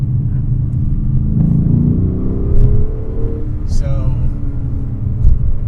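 A Lexus RC F accelerates with a loud, close engine roar that rises in pitch, and a brief high chirp follows as the rear tires break loose, with voices speaking over the engine.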